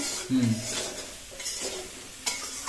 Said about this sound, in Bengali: আগে এটাকে কষে নিচ্ছ তাই তো ভেজে নিচ্ছি ভেজে নিচ্ছি